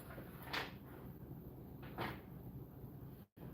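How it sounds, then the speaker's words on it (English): A hardware drawer in a home garage workshop slides open or shut twice, two soft short bumps over a steady background hum, followed by a brief dropout near the end. "Hardware we keep out. Put in the hardware drawer."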